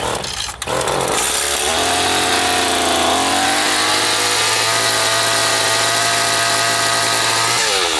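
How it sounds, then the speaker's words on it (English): A Stihl FS80 string trimmer's two-stroke engine starts after a brief pull and roars steadily at close range, its loud buzzing drone holding for several seconds before the pitch shifts slightly near the end. "Turn choke to full, throttle locked. Should start in about 3 pulls."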